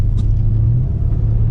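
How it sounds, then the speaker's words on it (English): Audi RS6 Avant with throttle applied, a low continuous engine rumble from inside the car building steadily over a short stretch, without talk. "So I'm going to hit the throttle now."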